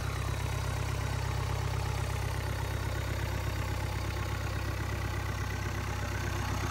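Isuzu 4KH1 diesel engine idling smoothly, a steady low rumble with even, continuous running and no talk over it.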